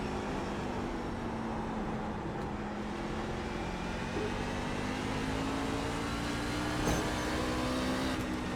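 A C-Fixed truck engine at North Wilkesboro in iRacing holds a steady, sustained drone with a slowly rising pitch as the throttle comes on, continuous and close with no talking.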